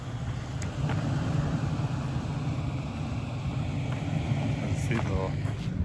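Nissan Skyline R33 cruising along, a steady low engine and road drone with wind rumble filling the whole stretch at an even level, heard from inside the moving car.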